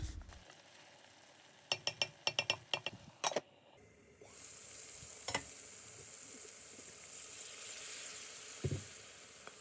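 A pan of flat bean and potato curry with rohu fish is stirred, starting with a quick run of sharp clicks and scrapes, then a soft, steady sizzle with occasional knocks, quiet and close.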